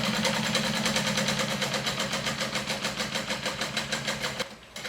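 A sewing machine runs at an even, moderate pace while top stitching a curved pocket flap with a long 4 stitch length. Its rapid needle thumps and motor hum are close and steady, then stop abruptly near the end.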